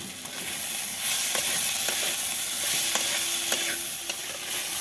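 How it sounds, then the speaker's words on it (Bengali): Vegetables for a vegetarian sago pulao, sweetened with a little sugar, stir-fried in a pan, giving a steady close sizzle with repeated scraping clicks of the spatula throughout. "সবজিগুলো দেখুন সব ভাজা হয়ে গেছে, এমনকি সেদ্ধও হয়ে গেছে।"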